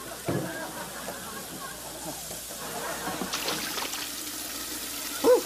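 Very hot water pours and trickles steadily into a 2-liter plastic pop bottle, with a faint murmur of background noise and a brief knock near the end.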